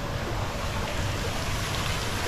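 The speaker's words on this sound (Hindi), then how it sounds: "इधर में थोड़ा सा वाटरफॉल भी है" A small waterfall at a Burmese Buddhist temple in Penang, Malaysia, gives off a steady, even rush of splashing water that stays faint and unbroken with no voices.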